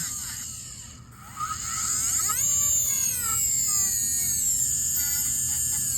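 Rotary dental handpiece trimming an acrylic transitional partial denture, a high whining buzz that rises and shifts in pitch as it loads and unloads against the acrylic, steady and close.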